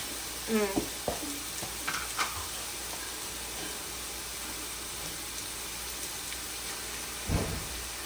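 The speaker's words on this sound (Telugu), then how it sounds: "తర్వాత అల్లం వెల్లుల్లి పేస్ట్ వేస్తున్నాను." Ginger garlic paste hitting hot oil in a pan while cooking a pulasa fish curry, with a steady background sizzle, some stirring clatter near the start and a short burst of scraping near the end.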